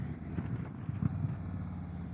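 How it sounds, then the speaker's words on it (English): An Indian Chieftain Dark Horse 116 cruiser's Thunderstroke V-twin rumbles low and steady under compression braking, a deep continuous engine drone with slight wind buffeting and no voices. "Ah, that familiar compression braking, something that the Thunderstroke is really good at"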